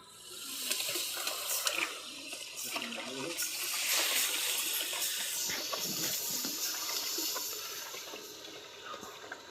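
Urea poured into filtered water and stirred until it dissolves, giving a steady run of sloshing, splashing water over about ten seconds, fairly close and continuous without clear breaks.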